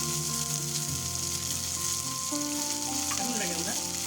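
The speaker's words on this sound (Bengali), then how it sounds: "এখন আমরা এই গরম কড়াইয়ের উপরে যোগ করে দেবো পেস্ট করে রাখা লাউ পাতা, চিংড়ি মাছ, রসুন আর পেঁয়াজ" A paste of bottle gourd leaves, shrimp, garlic and onion dropped into a hot wok hisses with a loud, dense, steady sizzle, while faint tonal hums from a background appliance or music sit underneath.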